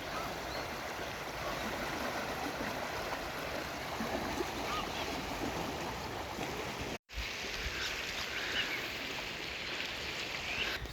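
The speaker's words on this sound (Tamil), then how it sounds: "அங்கேயும் நல்ல தண்ணி ஓடுது." Continuous soft rush of a stream of flowing water at Sydney Olympic Park Bay Marker, steady and fairly faint, with a brief dropout partway through.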